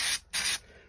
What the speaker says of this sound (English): I'm going to add that into a spray box and just give it a spray